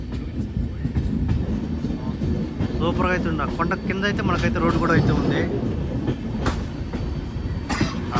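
Karwar Express train running from Mangaluru to Yesvantpur, a steady rumble with rail clatter and a passing tonal whine, heard from on board, with people talking over it throughout.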